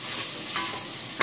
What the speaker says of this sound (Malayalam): 1/2 കപ്പ് ഓണിയൻ 1 കപ്പ് തക്കാളി എന്നിട്ട് നല്ലപോലെ വഴറ്റണം